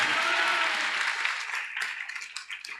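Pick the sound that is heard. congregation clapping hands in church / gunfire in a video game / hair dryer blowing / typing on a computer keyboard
congregation clapping hands in church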